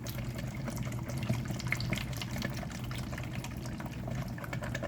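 Extra virgin olive oil poured into a homemade Greek salad dressing, giving a steady, soft liquid trickle that runs evenly for the full five seconds with no talking.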